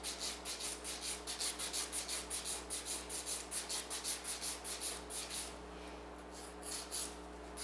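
A nail file rasps over polygel stiletto nails in quick, regular back-and-forth strokes, close and soft, slowing to a few sparse strokes near the end.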